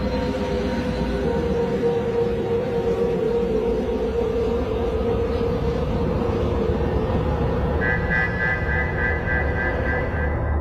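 A train passes at night, producing a loud, continuous rumbling drone with a sustained tonal hum, joined by a higher whining tone near the end, with no voices.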